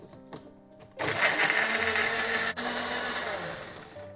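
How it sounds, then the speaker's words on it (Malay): A blender starts with a sudden roar and whirs steadily and loudly as it chops garlic and shallots, the pitch wavering slightly as the contents churn. "aku mau blender."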